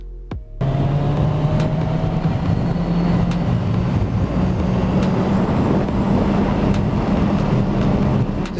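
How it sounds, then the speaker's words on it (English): Steady engine and induction drone from a Kawasaki Z1000SX (Ninja 1000 SX) motorcycle while riding, a continuous close hum with a constant tone and road rush, no talk. "The induction sound from the airbox is very pleasant to the rider."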